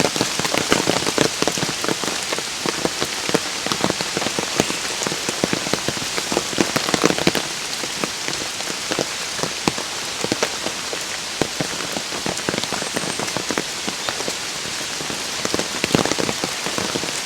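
Heavy rain pours continuously onto a hard surface, loud and close, with dense drumming drops throughout and no voices.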